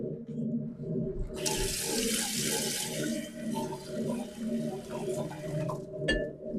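Instant noodles are rinsed under a running kitchen tap, the water gushing steadily for several seconds before cutting off, over a low background hum.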